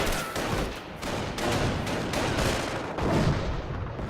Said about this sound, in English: Looks like their mortars hitting my mortar